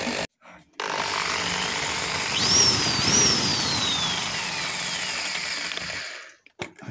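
A power drill grinds steadily for several seconds, loud and close, starting abruptly after a short pause and winding down at the end.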